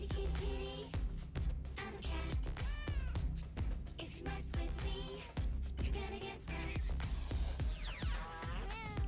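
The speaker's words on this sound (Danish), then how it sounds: "Og så er der katten." Cat meowing repeatedly in the Fortnite video game, several drawn-out, pitch-bending mews over a busy, loud game soundtrack with music and effects throughout.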